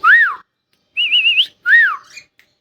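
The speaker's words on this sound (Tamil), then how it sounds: "பேர்டு பார்த்திங்கன்னா விசில் அடித்து நல்லாவே ரெஸ்பான்ஸ் பண்ணுது" A pet bird in a roomy cage whistles three clear, close phrases: rising-falling swoops and a quick warbling trill, separated by short pauses, with no other sound around them.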